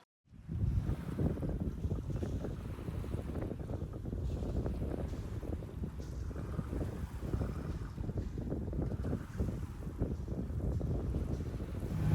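A sailboat coasts across the banks off Florida in about two knots of breeze, with a soft, steady low rumble of wind on the microphone and gentle water wash, quiet and continuous with no talking.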